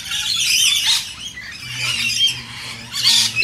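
Parrots squawk harshly in bursts, several birds calling loudly and close, with shrill screeches repeating every second or so.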